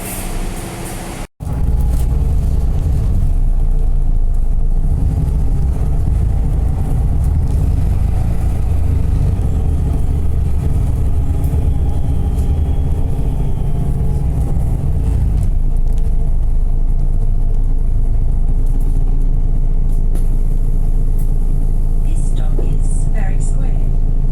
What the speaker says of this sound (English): TP 2670 arriving on a Blue Cat service to tick off Perth bus.